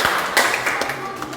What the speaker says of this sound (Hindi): इनके लिए भी तालियों से स्वागत किया जाए।